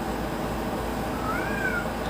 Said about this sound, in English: And there's my cat right on schedule.